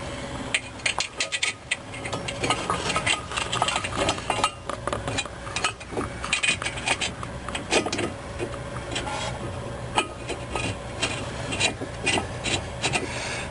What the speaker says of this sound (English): now we're going to put the bracket on